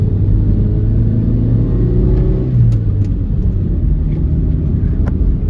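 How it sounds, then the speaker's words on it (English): A 1987 Plymouth Colt Vista with a manual gearbox and 4WD drives by day, its engine rumbling loudly and steadily inside the cabin, with pitch shifts as the gears change. "Car shifts smooth."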